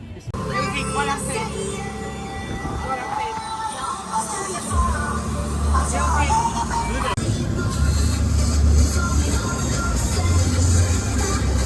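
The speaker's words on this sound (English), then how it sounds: "A quick ride in the maddest tuk-tuk ever" A fast, wild tuk-tuk ride on Koh Lanta: a low, rough engine drone and road rumble that grows heavier halfway through, under steady conversation from riders.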